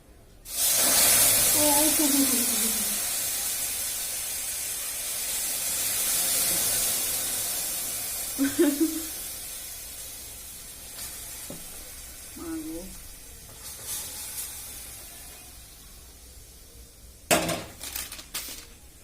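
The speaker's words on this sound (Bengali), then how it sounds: "এইবার আমি দুধটা এখানে ঢেলে দেবো" Milk poured into a pan of fried vermicelli bursts into a loud hiss that gradually fades to a soft simmer, with occasional stirring clinks and a sharp knock near the end.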